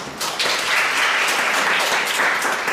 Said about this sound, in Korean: 이제 앞에 나오실 때 박수로 환영하시기 바랍니다